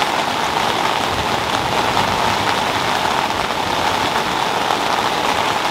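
Heavy rain drums steadily on a tent close by, a dense, unbroken hiss of drops with no pauses.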